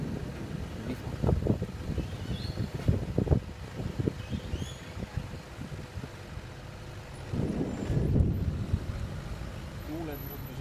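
Strong wind buffets the microphone outdoors in Australia, a steady rushing roar with gusty bursts that swell and fade, and brief voices in between.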